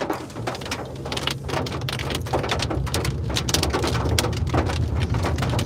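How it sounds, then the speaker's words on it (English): Hail pelts down during a Dakotas storm with a dense, continuous rattling roar that is loud and steady throughout, with sharper impacts scattered through it and no voices. "Getting slammed with hail here."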